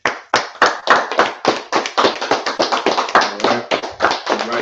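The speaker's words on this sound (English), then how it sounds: "Let's clap it up." A group of people claps their hands in a burst of loud, close, rapid applause lasting several seconds, the claps uneven and overlapping with no talk.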